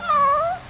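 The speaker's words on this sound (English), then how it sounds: "Ooh, what is that? A cat." A cat in Final Fantasy XV lets out a single clear, drawn-out meow up close, rising and then falling in pitch across most of the clip, with no talk over it.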